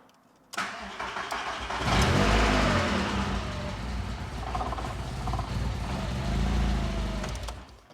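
A Volkswagen Golf mk2 engine cranks briefly, catches and settles into a steady, rumbling run close by, loud and unbroken for several seconds, with no speech over it.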